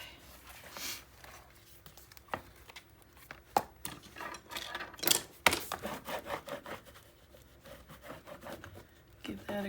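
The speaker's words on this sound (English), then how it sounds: "Give that a good burnish." A wood veneer panel is burnished by hand, with soft, close rubbing and scraping strokes that come in irregular bursts, sometimes with sharper scuffs and light knocks, and are fairly quiet overall.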